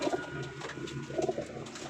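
Pigeons coo in close, soft bursts, low throaty rolls rising and falling a couple of times among a flock.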